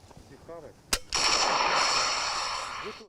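An RPG grenade launcher fires: a sharp bang followed by a loud, sustained roaring whoosh lasting about two seconds, with a voice briefly heard before and after, on a military training ground.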